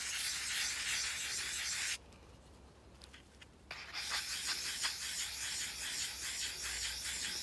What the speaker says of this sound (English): this time using the wet and dry sandpaper and working at the edge where you want it